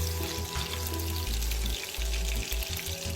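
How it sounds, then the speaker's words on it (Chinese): Pork belly frying in hot oil over medium heat sizzles loudly and continuously, with a low droning hum running underneath. "油热后倒入3层肉，中火煸香，逼出猪肉内部油分"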